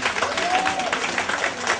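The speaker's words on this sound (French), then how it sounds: "Applaudissez beaucoup pour m'accueillir." A crowd applauding at a community New Year's Eve reconciliation gathering in Guinée forestière, continuous clapping with a faint whistle-like tone briefly over it.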